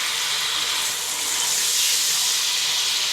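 Spices frying for chana pulao give off a steady, close sizzling hiss that holds evenly loud from start to finish, with no voices.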